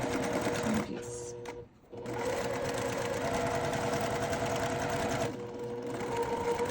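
A home sewing machine chain piecing small quilt leaf pieces, running in a steady fast mechanical whir that pauses briefly twice before starting again.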